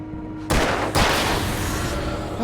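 Loud, close video game gunfire bursts in abruptly, with two heavy blasts followed by sustained rattling fire and booming reverberation.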